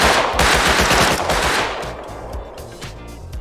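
Rapid automatic gunfire in the video game Rust, a loud close burst of fast shots that eases into fainter scattered shots and echoes.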